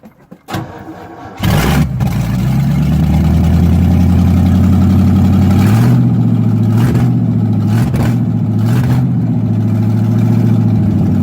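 A vehicle engine starts after a few clicks and runs at a steady loud idle with a deep hum, rising slightly in pitch as it revs while the rear wheels turn under its own power; a few thumps cut through.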